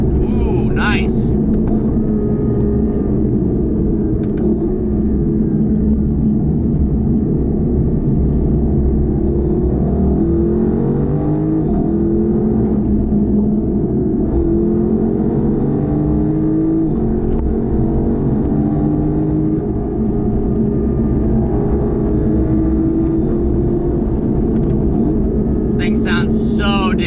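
A Lexus LC500 coupe's engine rumbles loud and steady from inside the cabin while driving, with a rising rev and gear shifts partway through, under a voice talking intermittently.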